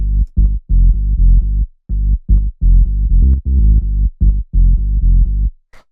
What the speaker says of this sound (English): Next thing we have here is the bass